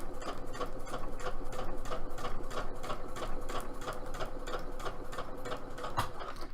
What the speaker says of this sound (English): I am doing the craft foam base and sewing the leatherette over top.